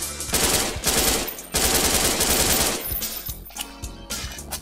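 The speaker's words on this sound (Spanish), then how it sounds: "esta tiene una escopeta. Casi nos pega." Enemy shotgun fire in Friday Night Funkin FPS, a dense run of loud, rapid gunshot bursts in two heavy volleys, then sparser shots trailing off, with no talk.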